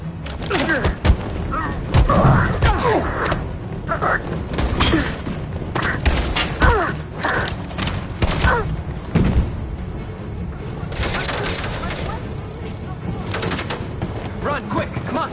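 Suppressing gunfire and booming blasts crackle through a shooter video game, with dense shots and thumps mixed under frequent shouted voices.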